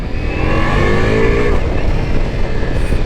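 Ducati Multistrada V4S Pikes Peak motorcycle with a V4 engine revving up and accelerating, a loud rising engine roar with shifting pitch, heard close and alone.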